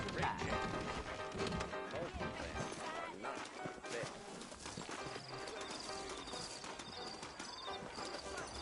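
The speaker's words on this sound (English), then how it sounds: "I got the horses saddled up and ready out front." Horse hooves clip-clop in Red Dead Redemption, a western video game set in New Austin, a steady rhythmic trot mixed into dense game sound with music and voices.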